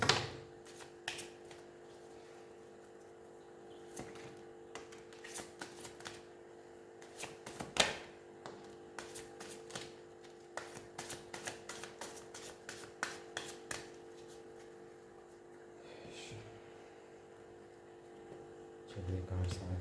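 Tarot cards shuffled by hand in repeated bursts of quick, crisp riffling clicks, close and fairly quiet, with short pauses between rounds.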